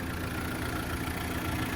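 A VW ABA engine swapped into a Mk1 Caddy pickup idles steadily after repair, a constant close rumble with no revving or talk.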